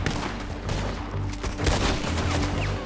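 Several rapid Lancaster repeater rifle shots ring out during a Red Dead Redemption 2 gunfight in Rhodes, loud, sharp cracks close together over a low rumbling background.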